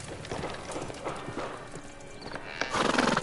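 Horse hooves clip-clop in the Victorian London streets of the Sherlock Holmes: The Devil's Daughter video game, a steady trotting rhythm with a horse whinnying over it, louder in the final second.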